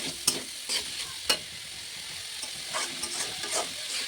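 Vegetable bhaji frying in a pan, stirred a little after resting on low heat: a soft, even sizzle with a few sharp scraping taps of the spatula near the start and lighter stirring strokes later, close by with no talk.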